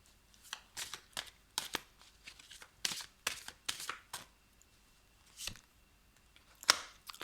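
Tarot cards are shuffled and drawn: a quiet, close series of crisp riffling flicks and snaps in irregular bursts, with no talk over them.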